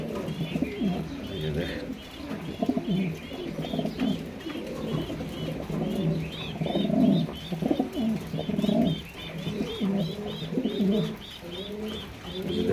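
Pigeons cooing close by, repeated overlapping low throaty coos in an ongoing rhythm, with higher chirps scattered above them and a little background noise.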